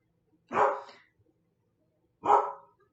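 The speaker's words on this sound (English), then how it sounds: "He's not coming in because he will bark" A dog in an animated film gives two sharp, close barks spaced well apart, each a single clear bark against near silence.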